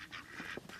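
Ducks in a crowded room give a quick burst of several short nasal quacks, overlapping and fairly close, lasting under a second.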